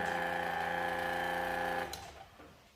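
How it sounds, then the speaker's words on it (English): A Lucas windscreen wiper motor on a Land Rover Series 1 runs with a steady, loud mechanical whir for nearly two seconds, then cuts off and fades into quiet. "This windshield wiper goes. This one as well."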